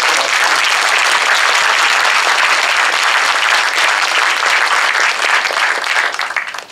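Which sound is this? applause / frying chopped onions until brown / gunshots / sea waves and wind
applause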